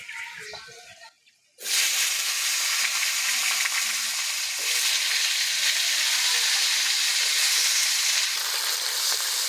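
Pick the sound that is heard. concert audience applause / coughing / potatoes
potatoes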